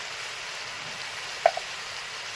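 Turmeric and cumin powder are tipped into hot oil in a pan and sizzle with a steady soft hiss, broken by one brief sharp spatter partway through.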